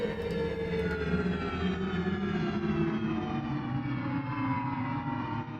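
A dense, droning layered synth pad with a wavering, siren-like tone sustains steadily, its texture faintly chopped by a gate, with no voices.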